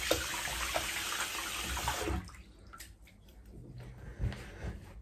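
Water from a sink splashing and running loudly as a face is wetted after a shave, then quieter drips and handling sounds.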